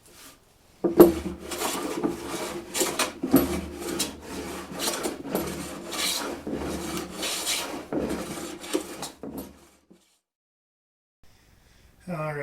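Sanding a butcher block workbench top built from 2x4s with 120 grit sandpaper, a steady close rasping scrub with irregular strokes for about nine seconds, then near silence.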